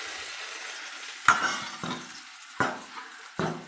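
Vasaka flowers fried in mustard oil with potatoes, cumin and a pinch of turmeric, a soft steady sizzle close by, broken by four sharp scrapes or clinks of a utensil stirring the pan.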